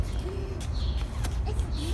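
Birds calling inside a Lowe's home improvement store, with short cooing or hooting notes heard faintly over a steady indoor background hum.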